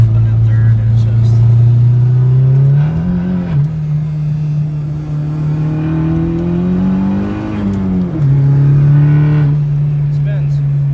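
A Chevrolet Cobalt revs hard with its wheels spinning without traction, a loud steady engine drone that rises and dips in pitch as the revs surge, with a voice talking over it.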